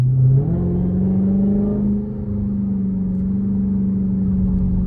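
Straight-piped Hellcat widebody engine revving up, then settling into a loud, steady drone close by, with no other sounds over it.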